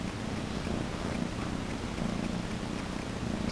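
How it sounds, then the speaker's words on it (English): A cat purrs continuously and close up, a soft rhythmic rumbling that holds steady throughout without any talking. "you can hear Scooter purring like crazy."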